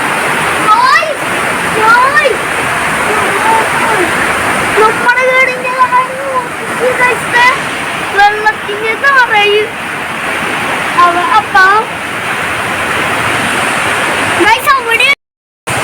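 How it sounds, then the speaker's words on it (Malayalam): Heavy rain pours down in Ernakulam, Kerala, in a constant dense roar, while a person talks over the downpour throughout. "എറണാകുളത്ത് വീണ്ടും മഴ തുടങ്ങിയിരിക്കുകയാണ് നല്ല മഴയാണ്"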